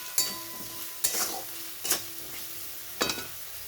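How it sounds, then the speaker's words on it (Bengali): A tomato, ginger paste and spice masala sautés in a pan as four distinct spatula scrapes cut through a quiet, steady sizzle and a low hum. "এখন ভালো করে কষাতে হবে।"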